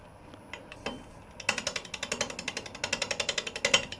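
Wood lathe turning a fork-in-the-limb bowl, with interrupted cuts through air gaps giving a rapid series of sharp rhythmic knocks that start sparse and faint, then grow loud and steady like a ratcheting chatter; no talk.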